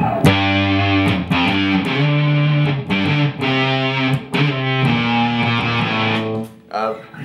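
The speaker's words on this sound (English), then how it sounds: "It's a great distortion pedal, and it sounds like this." An electric guitar through a fuzz distortion pedal plays thick, buzzing chords and sustained notes, loud and close, with brief gaps between phrases.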